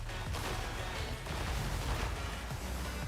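Flaming statues explode in a video game, producing a dense run of booming blasts and crackling bursts that pile up loudly over about three seconds with no talk.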